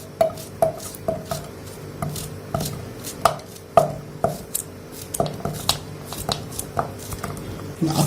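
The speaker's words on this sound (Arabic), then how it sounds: "هنمسكها نقطعها مكعبات صغيره كده" A knife chops watermelon rind into small cubes on a cutting board, with rapid, irregular knocks repeating steadily at close range and no speech.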